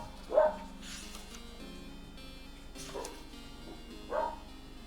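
Dog in the video game ISaT barks three times, single short barks spaced about two seconds apart over a faint steady game background.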